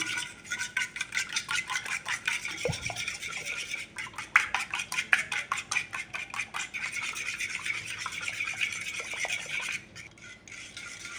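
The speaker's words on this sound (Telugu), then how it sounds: "బాగా ఇలా ఫోక్ తీసుకొని బాగా బీట్ చేయండి అసలు పీసెస్ ఉండకూడదు" Rapid rhythmic tapping and scraping as eggs are beaten with a fork in a bowl for egg halwa, a fast steady clatter that continues throughout with a brief pause near the end.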